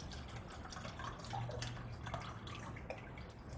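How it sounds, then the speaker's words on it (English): Water poured from one cup into another during a preservatives demonstration, a low, continuous trickling and splashing with a few brief drips, faint and steady, with no voices over it. "So I'm going to pour the water out"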